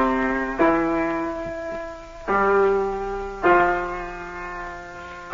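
Piano played by a student two weeks into a course, just three slow, sustained chords spaced a second or more apart, each left to ring and fade, solo and near.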